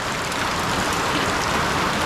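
Steady rain falls in Kabugao, a dense, even hiss of drops on surfaces that stays constant and fairly close throughout, with no voices.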